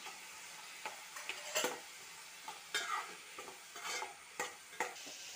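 Bitter gourd sautés gently in oil with turmeric, heard as a soft, quiet sizzle broken by intermittent scraping stirs and light clatters against the pan, with no voices.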